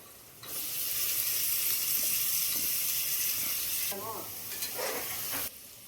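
Tomatoes dropped into a hot pan for a hotel-style salna, breaking into a loud sustained sizzle and hiss that later eases as they are stirred, then stops abruptly.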